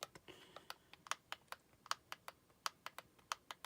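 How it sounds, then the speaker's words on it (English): Replacement micro switch L and R shoulder buttons on a Game Boy Advance AGB-001 click crisply and rapidly, around twenty sharp clicks in quick irregular succession, close and fairly quiet, with no talking. "So now the L and R micro switches are now clicky. You can hear they're clicky."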